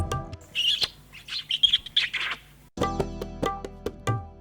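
Several short, high sparrow chirps in quick bursts within a Gujarati children's rhyme, close and clear, followed by a louder stretch of tonal sound.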